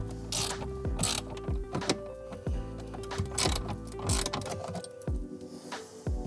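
Ratchet loosening two 10 mm bolts on a BMW cabin air filter cover, heard as repeated quick clicking bursts of mechanical ratcheting with short pauses, close up and fairly loud.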